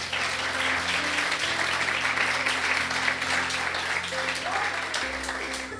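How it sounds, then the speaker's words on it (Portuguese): Church congregation applauding at a bilingual Italian-Portuguese service, a steady, dense wash of clapping that holds at even loudness throughout, with faint voices and a low sustained hum underneath. "Chi è che crede che Gesù merita un applauso"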